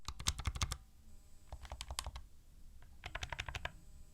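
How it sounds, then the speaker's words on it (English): Steam Controller buttons clicking in three quick bursts of sharp, close plastic clicks, separated by short pauses. "Here's how the buttons sound compared to the DualSense and Pro controller."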